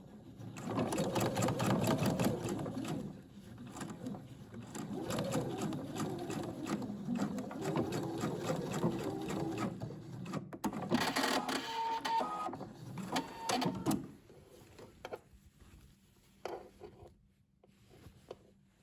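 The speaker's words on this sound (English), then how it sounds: "you stitch it parallel to the center front seam in the fold that you pressed until here" A sewing machine stitches the pressed fold of a dress parallel to the center front seam, running in a fast, even mechanical rattle for about fourteen seconds before stopping, followed by a few faint handling clicks.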